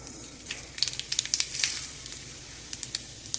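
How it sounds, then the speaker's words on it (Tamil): Mustard seeds crackle in hot oil for tempering a jackfruit seed masala curry, with a soft sizzle broken by scattered sharp pops, quiet and close, with no voices. "இது தாளிக்கிறதுக்கு எண்ணெய் வச்சுருக்கேன். கடுகு போடுறேன்."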